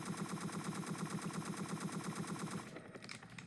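Sustained automatic gunfire in the video game Entry Point, a steady rapid rattle of shots that keeps up for about two and a half seconds before breaking off into a few scattered clatters.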